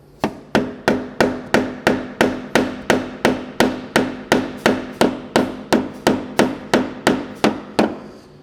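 A hammer strikes a new Bilstein Clubsport coilover shock on a Mini Cooper SD, landing about twenty sharp metallic blows at a steady, brisk rhythm, close and loud, with no talking.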